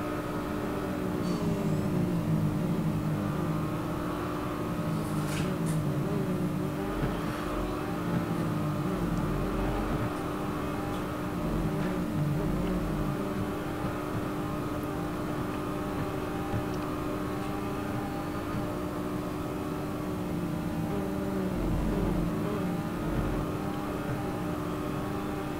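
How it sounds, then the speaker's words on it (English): A Porsche Boxster GTS in the racing game Real Racing 3 drones on with a steady, thin engine hum and faint whir through the whole stretch, level and continuous with no clear revving, plus brief higher clicks near the start. "Doesn't seem much of a very good engine noise on here"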